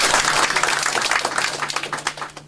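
An audience at a qigong-style movement session claps in a loud burst that thins into scattered individual claps as it fades.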